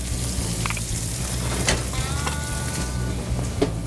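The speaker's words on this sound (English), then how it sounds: "now we're going to go over to our broiler, melt our cheese" Cheese melts under a broiler with a steady, close crackling sizzle and a few sharp pops over a low hum.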